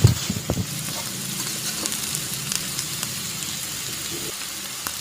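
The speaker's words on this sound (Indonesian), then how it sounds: "Nah, kita aduk-aduk sampai semuanya tercampur merata ya." Seasoned food being stirred in a hot pan with a little added water, a steady close sizzle and crackle with a few spatula scrapes at the start, no voices.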